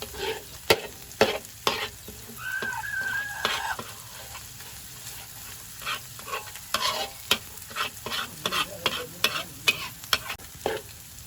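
Onions stir-fried in a pan, with a spatula scraping in a steady run of short strokes over a low sizzle, close and moderately loud with no talking, for a prawn and minced pork stink bean stir-fry.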